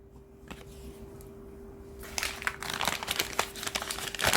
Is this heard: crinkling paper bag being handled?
yes